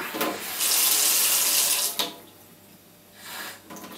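Water running from a tap into a sink to fill a teaspoon, a loud steady gush lasting over a second, then quieter flow and a second brief burst near the end.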